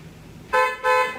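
Car horn giving two quick, close, bright beeps in succession over a quiet background.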